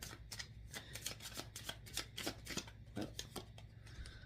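A regular deck of playing cards is riffle-shuffled repeatedly, giving quick papery bursts in a steady rhythm, close and fairly quiet with no talking.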